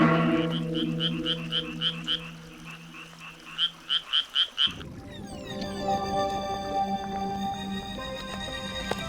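Frog croaking in a rice paddy wetland while a leech latches onto it, a run of loud rhythmic croaks with pulsing bursts, then a shift to a denser, steadier wetland chorus.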